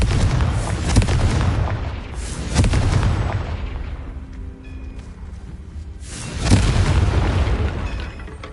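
Confringo fire-blast spells exploding in the Hogwarts Legacy video game, heavy booming blasts with rumbling tails, loud and close, several impacts rolling over one another across the clip.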